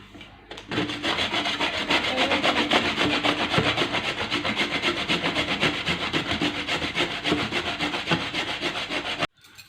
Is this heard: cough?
no